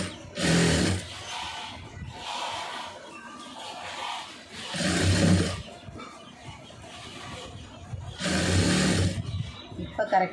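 A sewing machine stitches a star-shaped neckline design on fabric, running in loud bursts that stop and start, with someone talking over and between the runs.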